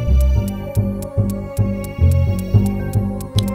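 Synthesizer pad preset playing in Logic Pro X: a sustained, droning tone with a steady low throb pulsing roughly every half second, alone and moderately loud.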